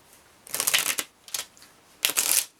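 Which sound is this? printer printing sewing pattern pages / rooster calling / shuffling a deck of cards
shuffling a deck of cards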